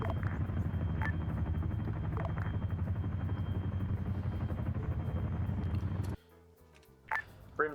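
Chinook twin-rotor helicopter in a military video game, a steady loud rotor and engine drone with rhythmic blade chop for about six seconds, then cutting off abruptly to a quieter background with brief beeps.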